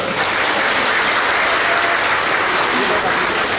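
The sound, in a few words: audience applause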